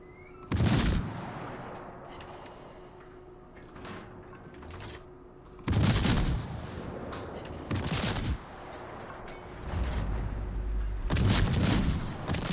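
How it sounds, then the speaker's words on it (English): Repeated bursts of gunfire from a video game naval battle as a ship is shot at, with loud broadband blasts recurring through the clip over a steady game hum, no talk. "Now Jed is shooting the Fuso."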